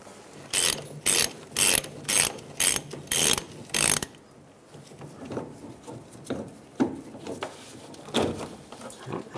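A hand ratchet spins the nut off a fuel tank strap under a 1999-2006 Chevrolet Silverado, loud bursts of rapid clicking in about seven even strokes up close, followed by fainter scattered clicks and mechanical handling.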